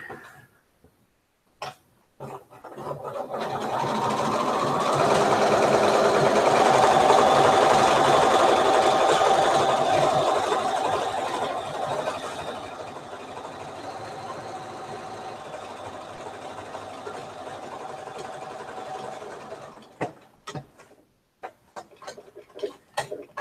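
A sewing machine stitching a knitted sweater bag runs in one long steady whir for about fifteen seconds, loud and close, with brief clicks and handling noises before and after.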